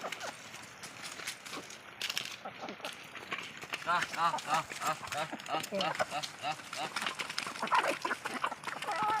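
Poultry clucking and fluttering in a busy yard, with people talking nearby and scattered quacking or honking calls mixed in.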